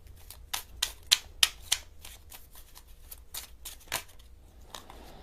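Tarot cards are drawn and handled in a quiet room, a run of close, crisp card flicks and snaps in an irregular rhythm, a few sharper slaps among softer shuffling, with no talking.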